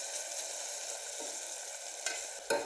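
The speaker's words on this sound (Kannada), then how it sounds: "1 ಟೊಮೆಟೊ ಹೆಚ್ಚಿಟ್ಟದ್ದು, ಅದನ್ನು ಹಾಕ್ತಾ ಇದ್ದೇನೆ. ಟೊಮೆಟೊ ಸ್ವಲ್ಪ ಮೆತ್ತಗೆ ಆಗಲಿ." Chopped tomato sizzles steadily in hot oil in a pan while cooking veg biryani, a continuous close frying hiss with a couple of brief stirring scrapes near the end.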